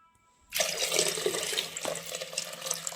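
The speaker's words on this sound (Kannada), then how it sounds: "ಇದಕ್ಕೆ ಎಷ್ಟು ಬೇಕಷ್ಟು ನೀರು ಹಾಕ್ಕೊತಿದ್ದೀನಿ" Water pours into a pot of sprouted horse gram for cooking, a loud, steady rushing splash that starts abruptly after a short quiet moment and keeps going to the end.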